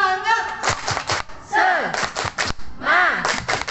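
A group of women at a basic training course in Bengkulu does a rhythmic spirit clap, with sharp, fast clap bursts mixed with loud chanting voices over about four seconds.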